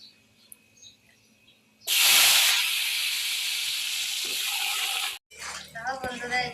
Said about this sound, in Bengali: আমি আলুগুলা সব লাল লাল করে ভাজে নেবো